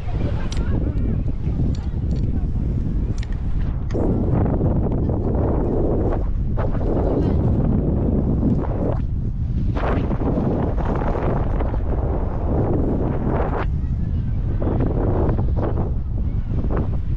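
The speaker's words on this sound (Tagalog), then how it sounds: "Lakas ang hangin dito mga idol oh." Strong wind buffets the microphone steadily throughout on a boat off Pulong Pasig, Calauag, Quezon, with a low rumbling roar and faint water movement beneath it.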